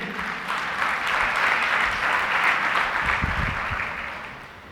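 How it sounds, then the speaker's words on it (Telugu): A church congregation claps during Sunday worship, a brief dense burst of many hands that rises and then fades out over a few seconds. "చప్పట్లు కొడదాం దేవునికి."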